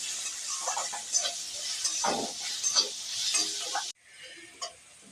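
Chopped ginger, garlic and green chilli sizzle in a pan as a spoon stirs and scrapes through them, a bright crackling hiss with scraping strokes that drops suddenly to a quieter simmer.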